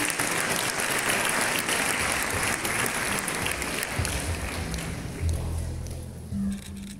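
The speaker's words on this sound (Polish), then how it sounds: "Wielkie brawa." Sustained concert audience applause fills the hall at a Christmas and New Year concert in Rumia, dense and steady throughout, thinning slightly toward the end.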